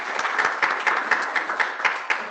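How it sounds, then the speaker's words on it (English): An audience at a technical conference panel gives a brief round of applause, dense steady clapping from many hands in a hall. "round of applause"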